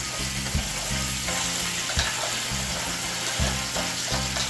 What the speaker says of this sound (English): Now I'm going to allow my season to saute